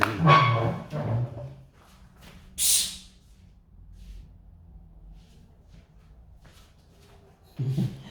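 A dog barks a few times in short bursts, fairly close, while fighting with a neighbour's dog, with quieter snorting and shuffling between barks and a brief hiss.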